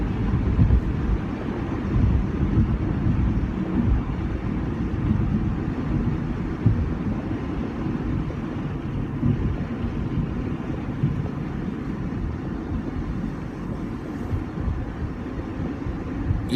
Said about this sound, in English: It is about 35 degrees and the wind started.